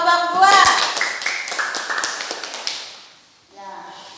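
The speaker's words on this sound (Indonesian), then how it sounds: "Kita beri aplaus untuk kelompok 2." Applause for a presenting group in a classroom: a burst of many hands clapping, loud and dense at first, thinning and fading out after about three seconds, with a voice and a short pause following.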